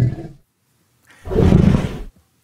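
Elephants let out deep, resonant roars, one short low rumble followed by a longer, louder roar after a pause, each rough and booming with nothing else around them.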